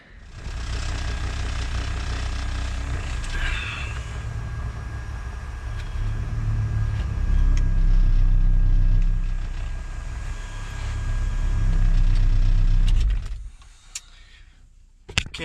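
A Mazda NA Miata fitted with a Tomei 2-way limited-slip differential that is still breaking in drives along, heard from inside the cabin as a loud steady engine drone and road rumble that swells and eases with rattles, then cuts off sharply near the end.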